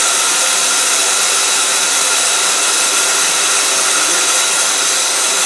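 A glassblowing oxygen torch used to heat glass tubing, its flame roaring as a steady, loud, unbroken hiss that stays level from start to finish, with no talking.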